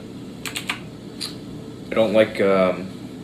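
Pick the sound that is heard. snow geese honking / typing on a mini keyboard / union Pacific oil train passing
typing on a mini keyboard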